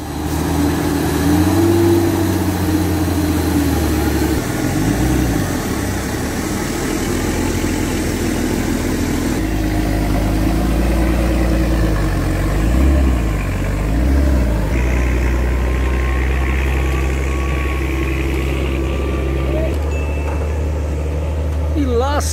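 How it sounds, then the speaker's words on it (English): A heavily loaded truck labours up extremely steep terrain with a tractor assisting; a steady, loud engine drone holds throughout, rising and falling slightly with load. "this powerful truck faces an extremely steep terrain. However, due to the heavy load, it can't be made on its own and requires assistance from a tractor"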